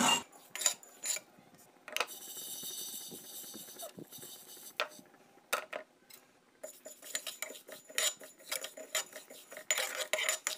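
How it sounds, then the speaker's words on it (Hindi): Whole spices dry-roasting in a pan for a carrot and lemon pickle, heard as dry rattling, clinking and scraping as they are stirred, close and intermittent with brief quiet gaps. "दो मिनट के लिए इन मसालों को हम लोग भूनेंगे ताकि इससे अच्छे से रोस्ट हो जाए"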